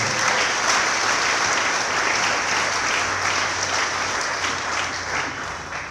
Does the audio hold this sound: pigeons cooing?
no